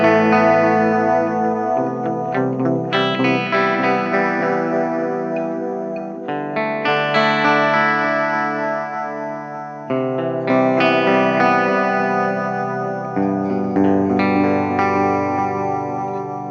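Sustained guitar chords run through an Xvive Echoman Mini analog delay pedal set to a longer delay time, with repeating echo tails smearing each chord change, loud and continuous with no talking.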